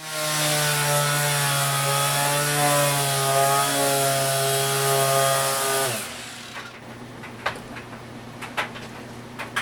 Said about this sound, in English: that brings to an end the sanding portion of possibly the world's ugliest fiberglass job ever